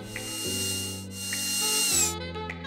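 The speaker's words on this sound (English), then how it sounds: "I used a small drill bit to drill a pilot hole" A small drill bit bores a pilot hole with a power drill, whining steadily up close in two short runs separated by a brief dip in speed.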